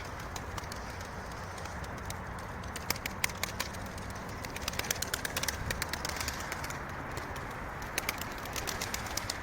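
Pigeons and doves at a live game-bird auction, with soft cooing and fluttering over a busy outdoor bed of noise, plus scattered sharp clicks and taps near the microphone.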